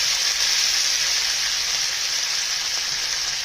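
Fresh coriander hits hot oil already popping with mustard seeds, giving a loud, steady, close sizzle that hisses evenly throughout with no talking.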